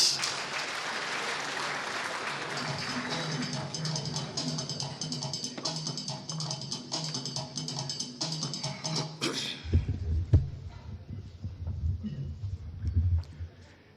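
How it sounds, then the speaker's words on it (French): Sustained applause from an audience at a scientific excellence awards night in Burkina Faso, a dense, even clatter of many hands that fades out after about nine seconds, leaving quieter room sounds and scattered claps. "Je vous prie de l'accueillir par des applaudissements"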